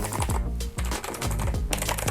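Rapid key presses clack on a NUBWO FLICKER NK-34 mechanical keyboard, about a dozen sharp, close strokes in quick uneven bursts with no talk.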